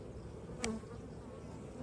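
Honey bees, many of them nurse bees, buzz steadily and close over an open brood frame while a beekeeper makes up a nuc, a dense, even drone throughout.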